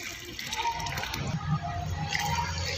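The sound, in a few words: watering rose plant, water poured onto soil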